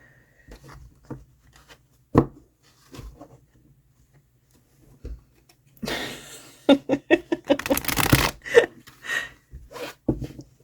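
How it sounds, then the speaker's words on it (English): Cards being shuffled and handled, with soft taps and brief riffling bursts that grow busier toward the end, close and fairly quiet. "I can sort of shuffle them."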